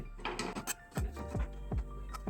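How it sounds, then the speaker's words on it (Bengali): A gas kitchen stove being lit, with several sharp, evenly spaced ignition clicks in quick succession, close and clear. "এবার গ্যাসের চুলাটা জ্বালিয়ে নিলাম"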